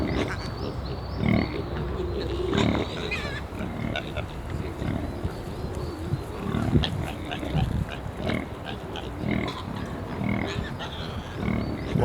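Wild piglets in Corsica squeak and grunt around their suckling mother, a busy stream of short high squeals and low snorts at close range with bursts of rustling, while a voice talks faintly in the background.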